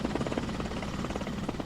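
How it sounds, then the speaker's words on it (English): A Soviet transport helicopter flies overhead in a combat video game, its steady rotor chop and turbine drone heard close and continuous throughout with no speech. "I hear another helicopter in the air. That's Soviet helicopter."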